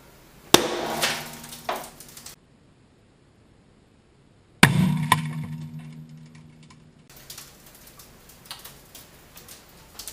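A chip of spark plug porcelain is thrown at a solid pane of office building glass, giving a sharp loud impact followed by a ringing, shattering crash, then quieter tinkling debris and handling noises.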